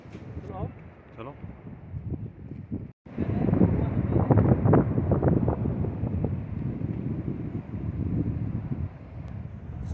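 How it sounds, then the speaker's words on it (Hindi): Cool wind gusts blow beside the Bhaga river at Jispa in the Himalayas, buffeting the microphone with a steady broadband rush that grows stronger after a brief dropout. "ठंडी ठंडी हवा चल रही है।"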